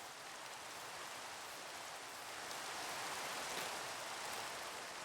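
Steady rain falling in a swamp in the video game Crazy Craft, a constant even hiss of rainfall with no talk, holding at a moderate level throughout.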